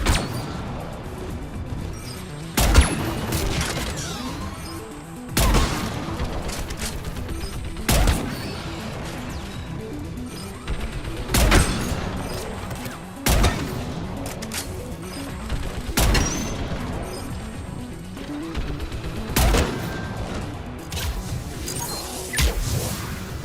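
Mounted turret fire in the Mass Effect 3 video game: heavy booming shots repeat about every two to three seconds, loud and near, against a busy mechanical combat background.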